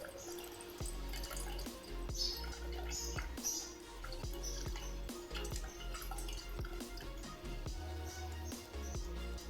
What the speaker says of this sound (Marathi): असं आज्यात पाणी वरचं काढून घ्यायचं